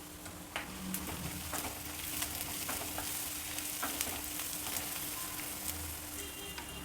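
Curry leaves, turmeric and onions fry in a pan with a steady, close sizzle, broken by scattered ticks and pops from stirring.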